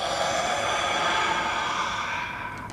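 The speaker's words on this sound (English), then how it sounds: "Deep breathing in." A long, slow, deep inhale of breath during a Tai Chi relaxation exercise, steady and close, gradually fading toward the end.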